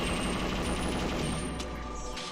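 Sustained rapid gunfire from a weapon in the Perfect Dark video game, fired at an alien saucer: a dense, continuous burst of shots that runs steadily before cutting off near the end.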